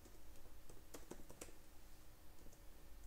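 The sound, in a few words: typing code on a computer keyboard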